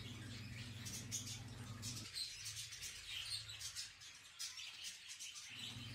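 Caged canaries, goldfinches, siskins, greenfinches and nearby parrots chirp and tweet faintly in quick, scattered calls over a low indoor hum.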